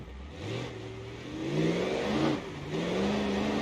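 A diesel Civetta Scintilla engine in BeamNG.drive revs up in several rising surges, sounding van-like, the pitch climbing and dropping between pulls, loud and steady with no talking.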